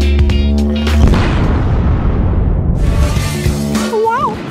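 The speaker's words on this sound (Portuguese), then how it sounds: "Uau, que explosão forte." A loud, deep video explosion boom erupts and rolls into a long rumbling decay, with debris-like noise trailing off.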